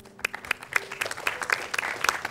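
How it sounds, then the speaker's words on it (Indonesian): Audience applause at a televised talk with a former Indonesian minister, a sparse scatter of individual claps growing denser over a couple of seconds, moderately close with room echo. "Jangan tepuk tangan dulu."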